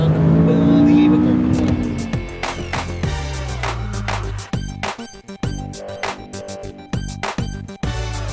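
A 2016 McLaren 570S engine roars hard in a sustained launch-control start, then rapid sharp gear shifts punctuate the acceleration, loud and close, with a voice speaking over it.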